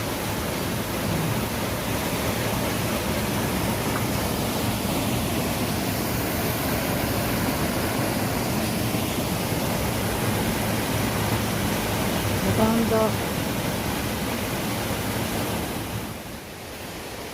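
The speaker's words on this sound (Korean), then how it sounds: "폭포가 대단하네요" A constant roaring rush of a waterfall in Yumyeong Valley on Yumyeongsan mountain, South Korea, fills the scene, steady and dense with no breaks, heard close by.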